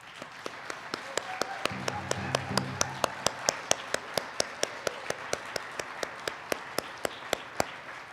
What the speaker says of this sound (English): we must give a round of applause to our Juno nominees